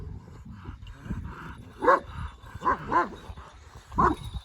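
A dog barks several times at uneven intervals, fairly close, with a few whiny yips between barks over low background noise.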